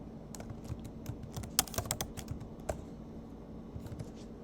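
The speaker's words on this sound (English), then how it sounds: "if we now type into this search bar total cholesterol" Keys clatter on a computer keyboard as a search term is typed, a quick irregular run of soft clicks and taps close by over faint room hum, with no voices.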